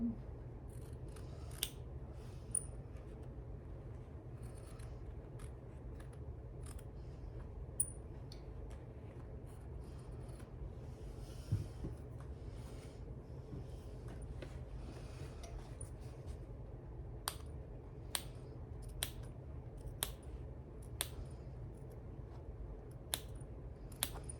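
Scissors snip through the fabric of a homemade summer tote bag in a series of sharp, scattered clicks, sometimes in quick pairs, over a low steady background hum.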